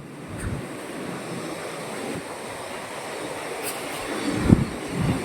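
Water rushes through the gates of the Somasila dam on the Penna river as a steady, loud, broad roar that holds evenly throughout, with a brief surge of splashing near the end.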